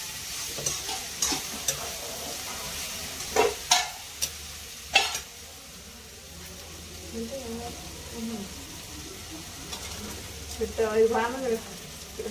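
Raw banana and potato frying in a pan, a steady sizzle with stirring clatters and scrapes that come in bursts and then calm. Voices talk nearby.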